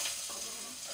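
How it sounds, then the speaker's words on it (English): Two onions sauté in oil for a traditional Kenyan mixed-greens dish. A quiet, brief, steady sizzle of frying plays on its own. "So we're also going to saute some onions."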